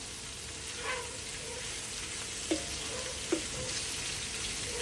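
Pork stir-frying in a pan, a continuous close sizzle with a few faint scraping stirs and small clinks over the steady frying hiss.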